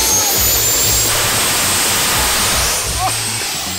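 Jet engine mounted on a children's toy drag racer running at full power nearby, a loud continuous roaring rush with a high whine on top, holding steady with only slight dips and no voices heard over it.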